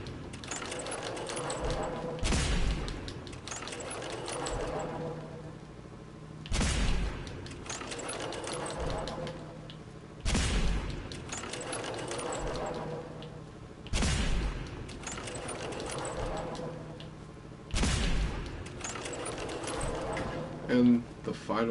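Automatic gunfire strafing in Fallout 4 comes in several loud sustained bursts of rapid shots spaced a few seconds apart, with someone talking between and over them.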